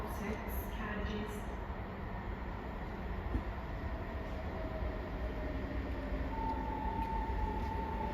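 Six-carriage ScotRail class 334 electric train arriving at platform 4 at Haymarket station, Edinburgh: a steady, loud rumble of rolling stock with a faint high whine running throughout, and a brief station announcement voice early on.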